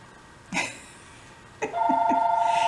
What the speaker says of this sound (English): Linda Howard, now why is this phone ringing right now?